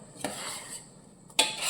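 Pumpkin erissery curry stirred in a pot with fried coconut after the heat is switched off: two sharp clinks of a spoon against the pot with soft scraping between, fairly quiet and close, with no one talking.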